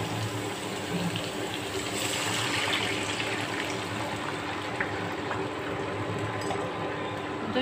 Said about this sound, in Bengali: এখন এর ভিতরে পানি দিয়ে দেব।